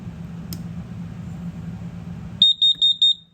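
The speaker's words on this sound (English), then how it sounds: "it's going to give you one long continuous beep" After a stretch of steady background hum, a combination smoke and carbon monoxide detector being tested in a 2024 Forest River Salem Cruise Lite travel trailer sounds four loud, shrill beeps in a quick even rhythm.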